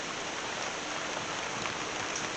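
Rain falls steadily outdoors at a work site, a dense even hiss of drops spreading across everything without letting up, no voices over it.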